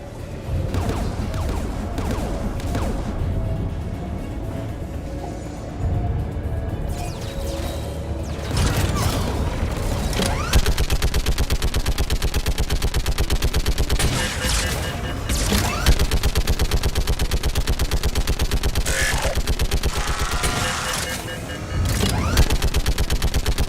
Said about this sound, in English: Get that gun offline, Ashley.